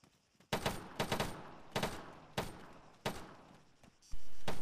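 Gunfire in the military shooter Arma III, with several sharp, loud bursts at irregular intervals and a heavier blast near the end, over quieter ambient noise between shots.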